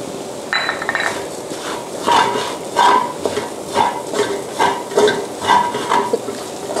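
Fish filling being stir-fried in a pan with fried shallots and garlic, loud sizzling broken by a regular rhythm of spatula scrapes and clanks against the pan.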